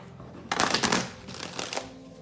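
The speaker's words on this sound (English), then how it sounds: "I can only do 3 shuffles on camera" Two quick riffle shuffles of a deck of tarot cards, crisp fluttering bursts close up, with a short pause between them.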